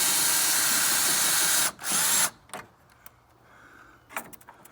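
Power tool spins off 10 mm grille bolts on a Ram truck, a loud close whir in two bursts, followed by quiet clinks and handling noises.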